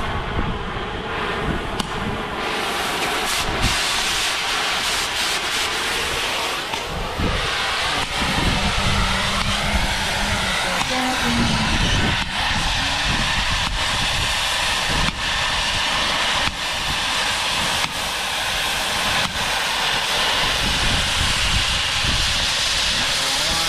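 Steady roaring hiss of a cutting torch slicing through the old steel frame of a Cat D9R dozer equalizer bar, continuous and close for the whole stretch, with faint clanks and bursts here and there.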